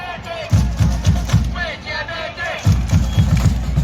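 A Thai football supporters' section chants at a BG Pathum United away match against Nakhon Ratchasima Mazda FC, with massed voices close by over a steady pounding beat.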